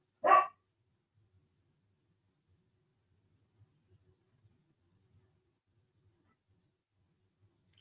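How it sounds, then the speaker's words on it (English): A dog gives one sharp, loud bark, then near-silence holds with scattered faint knocks until a brief hint of another bark at the very end. "the dogs want to speak to each other"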